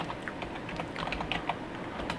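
Rapid, soft key clicks of typing on a computer keyboard, entering a username and password, come in quick irregular taps at fairly low level for about two seconds.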